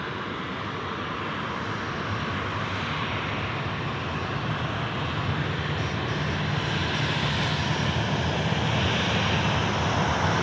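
A Qantas airliner passes at Sydney Airport at night, its engines a loud, steady, broadband roar that holds throughout, close and alone with no talk.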